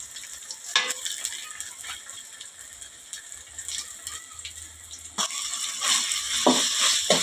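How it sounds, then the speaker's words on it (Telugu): Ginger garlic paste sizzles in a pan while a spoon stirs it through, scraping and clattering against the metal. The frying grows louder toward the end. "జింజర్ గార్లిక్ పేస్ట్ వేసుకున్న తర్వాత ఇలా కలుపుకోవాలి."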